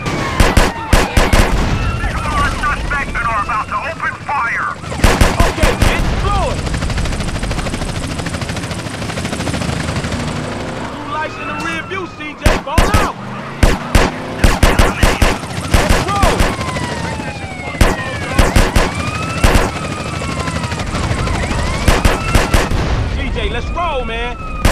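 Repeated bursts of gunfire from a drive-by in GTA San Andreas, fired from a Volkswagen Jetta, crack out in loud clusters over a steady helicopter drone and traffic noise, with shouting voices throughout.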